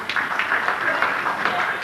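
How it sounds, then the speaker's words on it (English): A seated crowd at a 1995 award dinner applauds in a steady, continuous patter of many hands, moderately loud, with faint murmuring mixed in. "Stop clapping."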